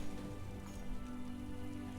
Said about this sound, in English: And why doesn't the rain put out the fire?